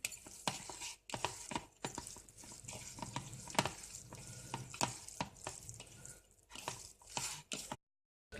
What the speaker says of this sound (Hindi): हाथ धोकर अच्छी तरीके से इसे मिक्स कर लेते हैं